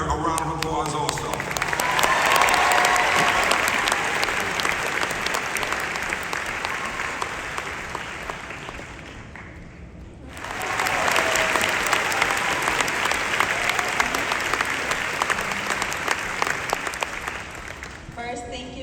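An audience at a UMBC graduation ceremony applauds in sustained, dense clapping that fills a large hall, dipping briefly around the middle before swelling again, with faint voices mixed in.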